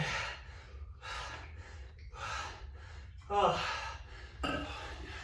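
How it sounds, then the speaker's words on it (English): Heavy, ragged breathing after a ten-minute no-equipment total-body workout: a series of close, loud gasping inhales and exhales in uneven rhythm, panting alone with no talk. "Trying to catch your breath."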